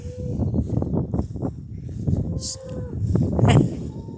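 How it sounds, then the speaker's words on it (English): Several cows moo loudly and repeatedly, overlapping one another, with a few higher calls mixed in. "got some angry cows over there from the neighbors"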